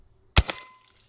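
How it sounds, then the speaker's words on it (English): One suppressed .38 Special shot through a Rugged Obsidian 45 suppressor, a short sharp pop followed by a quick fainter secondary crack, isolated outdoors with no talking. "but once we go to some 38 specials,"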